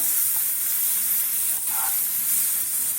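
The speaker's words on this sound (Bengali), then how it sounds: "এটা যখন বাটারের সঙ্গে ভাজা হবে" Onions frying in butter for a homemade chicken soup give a steady, close hiss that runs the whole time, broken by a short stir or scrape partway through.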